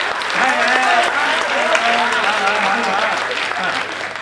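Applause from an audience at a Hindi comedy and poetry stage show, steady and sustained across the whole stretch, with a voice talking over the clapping throughout.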